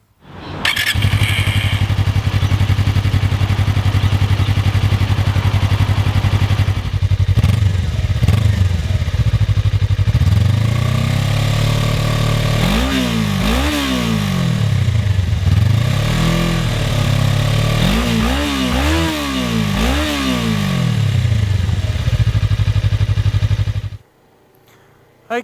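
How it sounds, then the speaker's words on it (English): Suzuki GSX250R 250cc sports motorcycle idling steadily, then revved repeatedly in sharp rising-and-falling bursts, loud and close, settling back to idle before cutting off. "so you can get a feel for what the 250R sounds like."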